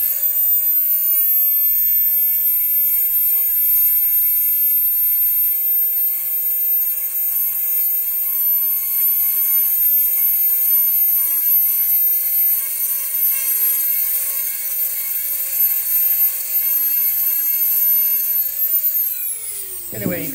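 A Dremel rotary tool grinds along an exposed plaster seam with a steady high-pitched whine that holds loud and unbroken for about nineteen seconds, then spins down abruptly at the end.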